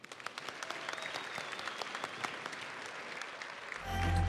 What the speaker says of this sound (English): Let's hear another round of applause for those who served.